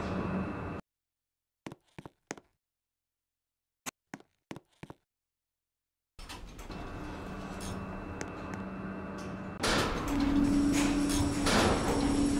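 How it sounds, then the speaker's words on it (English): An elevator door slides shut in a Roblox mall game, with a few soft clicks over silence followed by a steady mechanical hum and a rising tonal whine as the lift starts moving. "Door closed."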